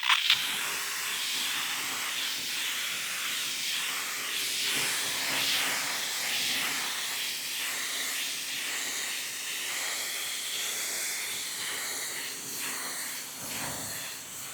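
A steady hose spray rinses a car coated in ADS hydrophobic beads, giving a continuous hiss of water hitting the paint. It runs close and fairly loud for the whole stretch, with no talk.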